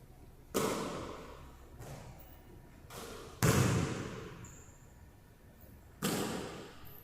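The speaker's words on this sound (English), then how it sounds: "And this is him shooting the ball in the corner." A middle school shooter's basketball shots from the corner come as a few sharp thumps spaced a second or more apart in a gym, each ringing briefly before fading, with no talking.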